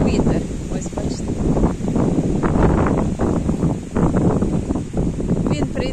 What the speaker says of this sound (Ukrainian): Зараз воно вітер сильний і дощі.